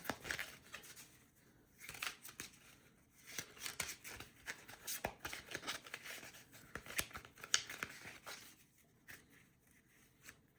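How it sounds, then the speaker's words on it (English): Playing cards being shuffled for a solo tabletop session of The Four Doors, a run of close, crisp riffling and rustling bursts with short pauses between them, no voices. "we're gonna shuffle this deck right now"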